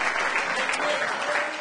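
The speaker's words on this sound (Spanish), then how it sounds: "Dele un fuerte aplauso al Señor." Church congregation applauding in a strong, sustained round of clapping that fills the space evenly from start to end, with no voices standing out.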